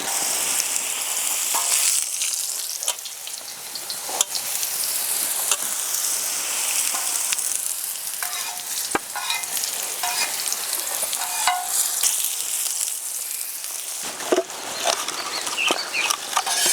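Brinjal slices frying in oil on a tava give a steady, close sizzle with scattered crackles and pops throughout, no voices present.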